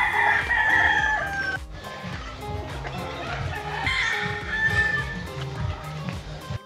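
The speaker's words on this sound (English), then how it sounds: "Chickens?" On Malapascua Island, a rooster crows loudly at the start while hens cluck and chatter continuously nearby, with another crow rising partway through.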